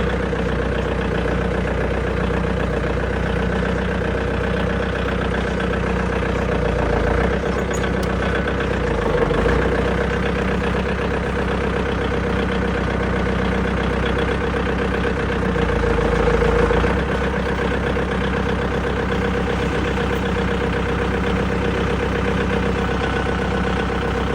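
Electric hydraulic sugarcane grab machine, two years in use, running with a steady droning motor and hydraulic hum throughout, with slight swells in load now and then and no talking.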